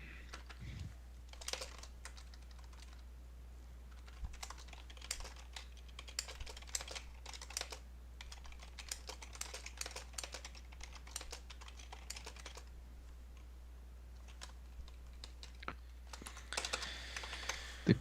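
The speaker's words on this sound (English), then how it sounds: "The cool thing with mechanical keyboards is I can hear when it's happening." Steady clicking of a mechanical computer keyboard being typed on, rapid uneven keystrokes close by over a low constant hum, with brief pauses and a denser flurry near the end.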